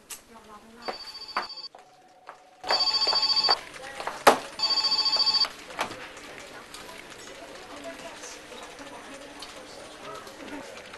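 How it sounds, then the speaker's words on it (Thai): A telephone rings in repeated electronic bursts, loud and close, with a short gap between rings, followed by quieter background sound. "โทรศัพท์"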